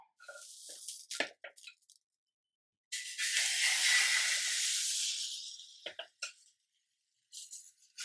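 Wheat flour dosa batter meets a hot pan with a loud, sustained sizzling hiss that swells and then fades over a few seconds, framed by scattered short squishy clicks and taps before and after, with no talking.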